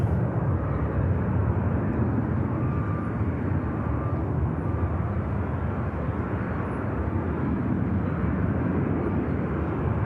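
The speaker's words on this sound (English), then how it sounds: "Got another Ryanair just on the taxi out here." Ryanair airliner taxiing out at Manchester Airport, a steady broadband engine rumble and whine holding close and loud throughout with no talk.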